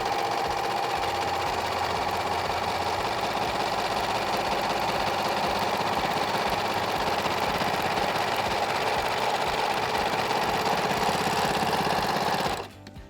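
American Home Serger stitching a 3-thread narrow hem on fabric, a fast continuous mechanical whirring chatter held steady at close range, then stopping abruptly at the end.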